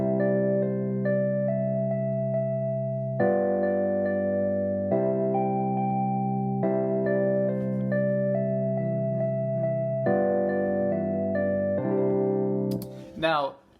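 Mary Had a Little Lamb sung as an a cappella choral arrangement, sustained stacked voices moving in block chords through a series of phrases, played back clearly at moderate level before cutting off abruptly.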